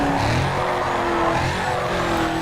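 A Hemi 5.7 V8 car in a racing video game roars steadily at high revs while its tires skid and squeal, loud and continuous throughout with no talking.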